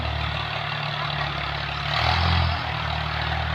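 Tractor engine idling steadily in farm fields in the early morning, a close, continuous low rumble with a rhythmic putter that swells briefly louder near the middle before settling back.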